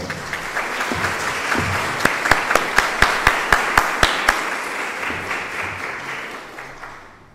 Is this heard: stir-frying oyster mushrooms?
no